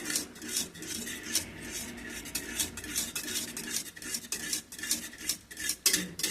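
A whisk clinks and scrapes rapidly against a pot while a sauce thickens, a steady metallic rattle of repeated strokes with no talking.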